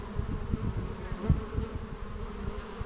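Honey bees buzzing at a thriving hive entrance on a spring homestead, a close, steady, dense hum with quick fluttering pulses from bees flying near the hand.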